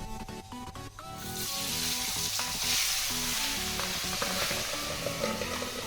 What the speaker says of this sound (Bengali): তেলটা গরম হলে পরে আমি মাছগুলোকে ভেজে নেব